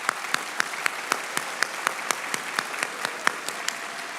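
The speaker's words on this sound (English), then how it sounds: "Please join me in giving them a warm round of applause" An audience at a university graduation ceremony applauds award recipients, a moderately quiet, steady patter of clapping with distinct individual claps at a regular rhythm.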